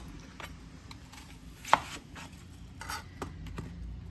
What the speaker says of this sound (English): So onions, you can cut your onions however you like.